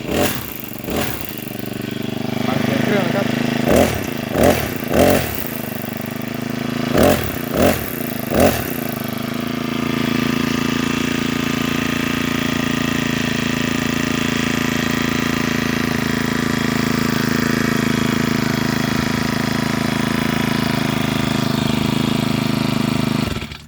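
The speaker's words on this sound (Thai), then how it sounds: "ลองเร่งดูนะครับ ตอนนั้นก็ใส่ใบเอ็นอยู่นะครับ" A Honda-replica four-stroke brush cutter with nylon line fitted, revved in several short bursts before it settles into a loud, steady high-speed run.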